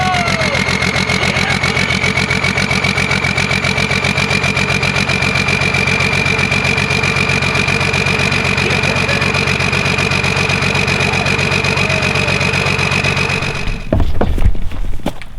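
A 1990 non-intercooled 12-valve Cummins diesel truck engine idles up close with a loud, even, rapid clatter for most of the span before a brief burst of rumbling near the end.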